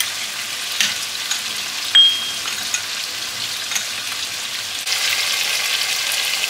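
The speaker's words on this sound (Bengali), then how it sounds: "মিক্সড জলটা দিয়ে দিচ্ছি" Cornflour and soy sauce water poured into a hot pan of frying katla fish for chilli fish, a loud continuous sizzle with a brief splash and a hiss that swells near the end.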